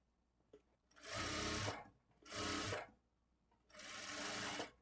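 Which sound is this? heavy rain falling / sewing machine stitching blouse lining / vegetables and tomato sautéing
sewing machine stitching blouse lining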